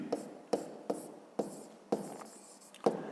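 Writing out a maths sum for a fifth-grade exercise: a pen or chalk taps and strokes in short, separate bursts, about six close marks spaced unevenly, with no talking.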